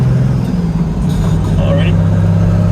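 A Datsun 240Z with a turbo diesel engine swap making around 400 horsepower cruises on the road with a steady, loud, low engine drone, while someone talks over it.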